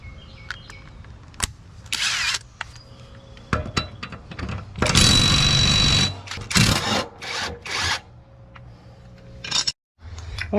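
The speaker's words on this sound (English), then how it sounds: "Okay, so I'm gonna sharpen the blades." Mower blades from a Gravely zero-turn are sharpened with a power tool in bursts, harsh grinding runs separated by pauses, clicks and handling knocks, loudest in a long stretch near the middle.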